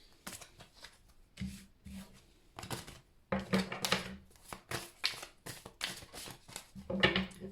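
A deck of cards is shuffled repeatedly close up, a series of short crisp riffling bursts with brief pauses between them, fairly quiet overall.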